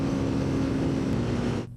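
A Honda CG Titan 160 50th-anniversary motorcycle engine runs at high speed near its 120 km/h top end, a steady loud drone with wind roar that cuts off abruptly near the end.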